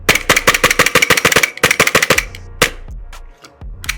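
A VFC L403A1 gas blowback airsoft rifle fires close and loud in rapid bursts of sharp snappy cracks with a brief pause between strings, then a few single shots and handling noises.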